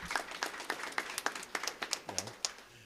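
Scattered clapping from a small audience, light and sparse, with a voice briefly audible near the end.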